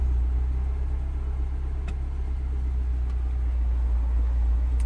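A Mini Cooper S R56 idles rough with a high-pressure fuel system fault, its engine a steady low rumble that pulses unevenly, close and loud with no talking over it.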